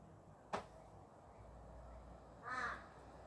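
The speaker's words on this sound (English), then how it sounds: "There are three, one, two, three, four crows." Crows caw outdoors, heard faintly and at a distance over a steady background hiss: one quick sharp call, then a longer, harsher caw about two seconds later.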